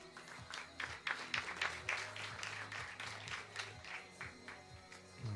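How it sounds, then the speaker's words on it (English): Scattered applause and clapping for a skeet shooting athlete at a competition venue, moderately faint, with uneven bursts of claps over a low rhythmic background. "Applause for the athlete."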